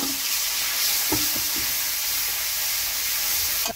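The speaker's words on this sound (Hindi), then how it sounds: "इसमें भूनते हैं अच्छे से" Spices such as fenugreek and carom seeds fry in hot oil for an aloo paratha filling, a loud continuous sizzle with a few soft scraping stirs near the start.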